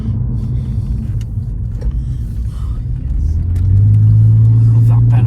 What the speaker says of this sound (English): That flat 6 is such a good engine.